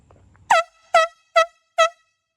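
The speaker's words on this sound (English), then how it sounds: "I sound off the air horn." Four loud, evenly spaced air horn blasts ring out close by, each a short, bright honk with a sharp start, following a faint voice at the beginning.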